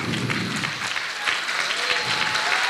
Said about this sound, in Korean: 다시 한 박수입니다.